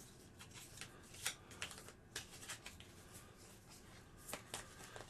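A deck of board game cards is shuffled quietly nearby, a soft papery riffle of irregular flicks and taps lasting several seconds.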